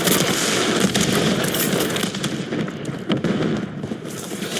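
A stun grenade bursts in a shooter video game amid a dense wash of crackling blasts and gunfire-like noise, loud and continuous throughout.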